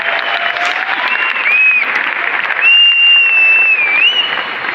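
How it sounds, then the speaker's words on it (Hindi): Loud, sustained applause from a large audience at an award function in a Delhi stadium, dense clapping filling the whole stretch with a brief swell near the end. "उन सब के लिए एक जोरदार ताली होनी चाहिए कि दुनिया भर में उसकी सुनाई दे."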